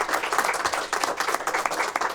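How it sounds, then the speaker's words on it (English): Audience applause for the panelists at a conference session on countering anti-gender backlash, a dense, steady round of clapping throughout with no talk over it. "a round of applause for all our panelists"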